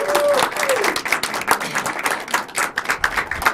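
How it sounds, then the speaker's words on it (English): Audience on a live nationwide call clapping, screaming and hollering for Brent Bench, with dense rapid claps, a whoop over the opening second and raised voices throughout. "could everybody across the country start screaming and clapping and hollering for Brent Bench?"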